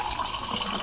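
Water, two glasses' worth, poured into a container of chickpeas and chana masala ingredients for soaking, a continuous splashing gush that fills the whole short moment without any voices.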